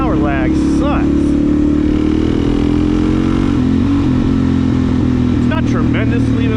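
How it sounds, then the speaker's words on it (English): A Suzuki DRZ 400 SM with a new exhaust tip rumbles loudly and steadily at close range, its engine pitch sagging and rising slightly as it rides along, with heavy wind noise throughout. "I sure do love the sound of this new exhaust tip."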